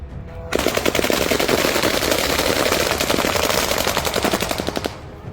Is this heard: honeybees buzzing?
no